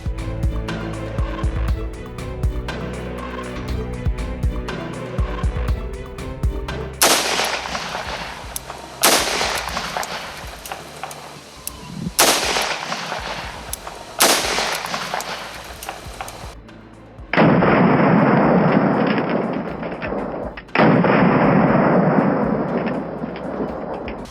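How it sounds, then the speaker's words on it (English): Ruger .357 Magnum revolver firing 125 grain hollow point rounds into and out of a vehicle, several loud, sharp reports spaced a couple of seconds apart, with ringing tails. "Next going to be a Ruger, shooting a 357 with 125 grain hollow point."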